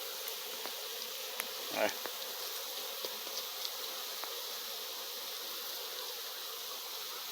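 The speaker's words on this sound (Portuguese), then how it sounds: "A abelha, olha lá, cheia de abelha, chega preta." Italian honey bees swarming an opened hive, a continuous buzzing drone throughout, close and steady, with a short burst of handling noise and a brief spoken word.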